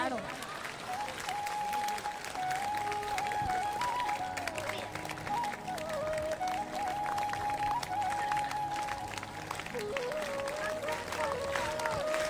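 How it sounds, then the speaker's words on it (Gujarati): A crowd at a devotional gathering for the goddess Meldi at Bareja Dham claps steadily and continuously in rhythm under a chanted Sanskrit hymn sung with musical accompaniment. "પણ તાળી પાડો"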